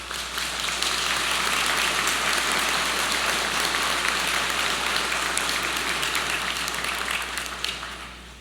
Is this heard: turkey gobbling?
no